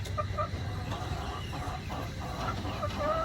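A hen clucks after laying an egg, in short, scattered bursts at a moderate distance over constant background noise.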